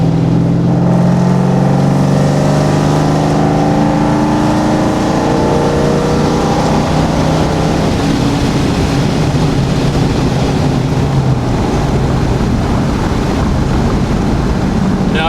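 Boosted engine of a ProCharged Newedge Mustang on a stock transmission, a loud steady roar with rising and falling harmonic whine that sweeps across the first half, then settles into a broad rumble with wind buffeting throughout.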